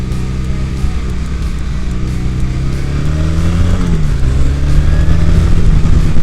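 A classic style motorcycle accelerates out of a corner on English roads, its engine note climbing steadily in pitch and loudness, close and continuous under wind rush.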